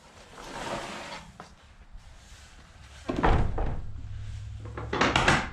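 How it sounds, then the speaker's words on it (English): A wooden door on a homemade 10x12 shed swings shut with a solid thunk, followed by a low hum and a second knock near the end, with faint background noise and no talk. "Close the door."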